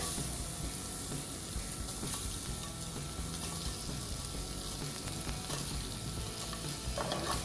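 Chopped cheese crisping on a hot griddle gives a steady, close sizzle and crackle that runs continuously, with occasional scraping and stirring, alone without talk.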